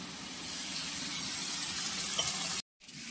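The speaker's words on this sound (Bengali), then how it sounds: "এবার দিয়ে দেওয়া হচ্ছে জল" Water poured into a hot pan of fish curry sizzles loudly, a steady broadband hiss that swells slightly and then cuts off abruptly near the end.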